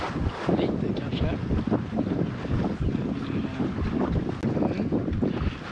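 A sailboat running under strong wind at sea, with steady heavy wind roar buffeting the microphone and water rushing along the hull throughout; loud and continuous, with no talk.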